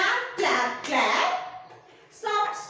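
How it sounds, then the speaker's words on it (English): Children in a classroom clap their hands together during a short action poem, a few sharp bursts of clapping mixed with a teacher's voice and children's voices. "Clap."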